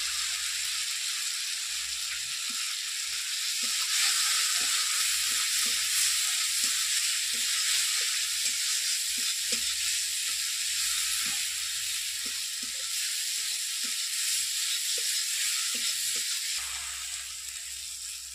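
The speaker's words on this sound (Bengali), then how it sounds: "মশলাটা দেখুন ভাজা হয়ে গেছে" Spices with Kashmiri chili powder fry in a pan, giving a steady, bright hiss of sizzling oil throughout, punctuated by regular soft ticks and taps of stirring, close and without any talking.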